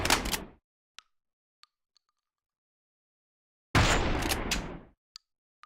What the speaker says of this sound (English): The shotgun of the player is constructed of 5 different layers.